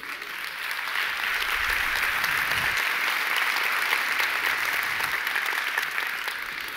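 A church congregation breaks into sustained applause, many hands clapping in an even wash that rises, holds for several seconds and fades slightly toward the end.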